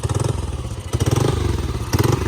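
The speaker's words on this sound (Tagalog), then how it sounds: "Di ba balik pa tong motor?" A motorcycle engine idles and revs nearby on a family trip in Aklan, with a chugging, pulsing rhythm, rising briefly twice, loud and close with no talk over it.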